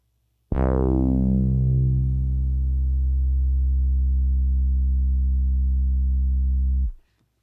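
A static sine tone sample played on an Elektron Syntakt starts with a brief bright sweep, then holds a steady, loud, pure hum for about six seconds before cutting off cleanly.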